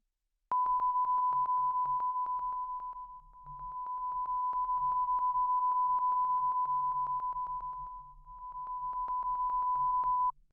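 A steady test tone sounds continuously around a Shure microphone, pulsing rapidly while its level swells and dips as the source moves, dropping noticeably in places before returning to full strength.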